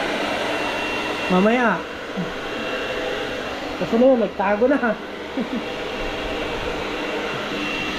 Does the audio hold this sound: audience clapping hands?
no